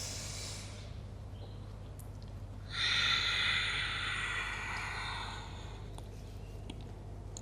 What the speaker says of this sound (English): Last 2 deep breaths.